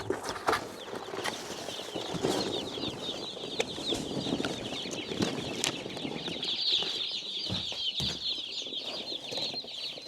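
Day-old Cornish Cross chicks cheep continuously in a dense, high chorus, close by, with scattered rustles and bumps from the birds moving around.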